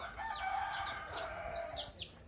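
Chickens cluck and squawk in quick, rising calls, several birds close by, with a low background hum.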